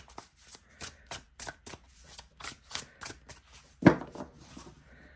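A tarot deck is riffled and shuffled in a rhythmic run of soft card flicks, about a dozen quick papery bursts, with a sharper snap near the end, close and quiet.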